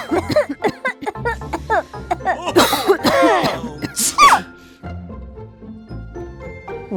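A cartoon character coughs and clears their throat in loud, close bursts, mixed with chuckling and playful vocal sounds. Music plays in the background.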